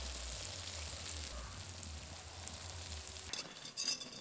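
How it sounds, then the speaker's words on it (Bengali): Lentil vadas for doi bora deep-frying in oil, a soft, steady bubbling sizzle at low level with a low rumble beneath, ending in a brief clatter. "একইভাবে বাকি বড়াগুলোও ভেজে নেব।"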